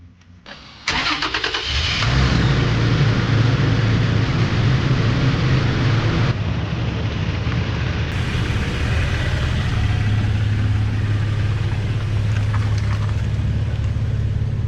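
A Toyota Tacoma pickup truck engine cranks and starts after a brief click, then runs at a steady, loud idle close by with no talking.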